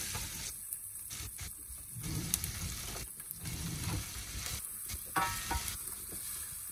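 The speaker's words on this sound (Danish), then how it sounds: "Og så starter jeg egentlig bare processen stille og roligt med at blanke løgene." Onions sautéing gently in extra virgin olive oil, a steady close sizzle with intermittent stirring scrapes and clatters over a continuous frying hiss.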